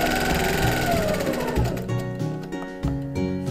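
A sewing machine stitches a quilt along a ruler for ruler-work quilting, running in a fast steady whir that slows and breaks into short bursts near the end, close and clear with no talk.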